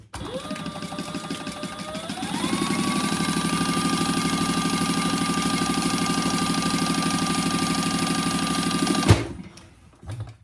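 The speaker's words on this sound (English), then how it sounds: "I'm just sewing along that long edge" A sewing machine stitches along the long edge of a handbag pocket in one steady, loud, continuous run of about nine seconds. The motor whirs up to speed early on, then cuts off abruptly near the end.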